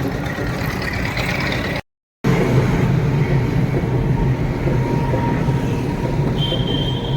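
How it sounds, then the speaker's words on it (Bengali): A train rumbles past near Noapara metro station, a steady loud roar of wheels on rails with a brief dropout partway through and a faint high squeal near the end. "এই যে নপাড়া মেট্রো স্টেশনের কাছ দিয়ে এই রেল যাচ্ছে।"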